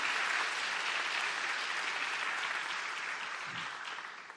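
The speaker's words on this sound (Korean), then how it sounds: "함께 격려의 박수를 했으면 좋겠습니다" Congregation applause during a church worship service at a Korean mission conference, a faint, dense, even patter of many hands that slowly tapers, with a brief low thump near the end.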